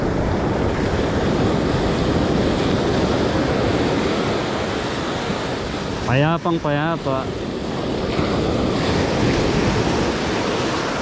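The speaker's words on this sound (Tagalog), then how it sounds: "Sarap din panoorin ng mga alon, no?" Ocean waves wash steadily onto the shore on a seaside fishing trip, making a continuous broad roar mixed with wind noise. A voice speaks briefly partway through.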